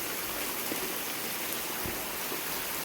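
Heavy rain pours down in a dense, constant hiss, drops drumming steadily on surfaces with no letup until it cuts off.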